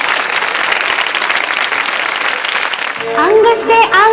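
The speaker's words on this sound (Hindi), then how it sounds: "तालियां जोरों से बजाइए और झूमिए।" Audience applause at a college quiz show held for a Holi celebration, a steady, loud wash of clapping that runs for about three seconds before a tonal voice or music rises over the crowd near the end.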